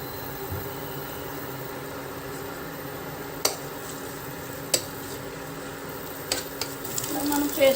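Ginger paste, curry leaves, garlic and cumin frying in a pan for paneer butter masala, giving a steady soft sizzle throughout with a few sharp clinks of a utensil against the pan.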